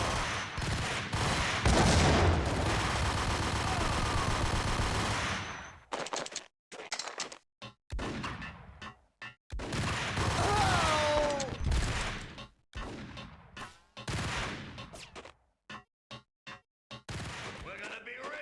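Sustained gunfire from the Max Payne video game: a dense volley of close shots at first, then scattered single bangs separated by silences, with some voices mixed in.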